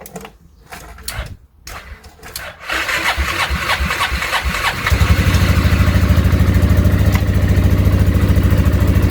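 The Piaggio engine of a 2004 Boom Trike Fun 500 with a faulty reverse gearbox sputters and starts, then revs up and settles into a loud, steady running drone close by.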